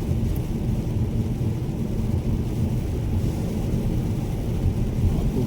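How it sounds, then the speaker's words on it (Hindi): Heavy rain drums steadily on a car roof and windshield while driving a road stretch between Gulmod and Dunhuang, forming a dense, constant roar with a low engine rumble and no talking. "दोस्तों देखो बारिश हो रही है, कितनी तगड़ी बारिश है।"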